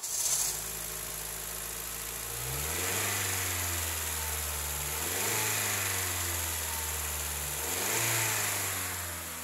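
A 2003 Honda CR-V engine with 164,430 miles runs steadily for the whole stretch, its low hum rising and falling in pitch as it revs up and settles a few times.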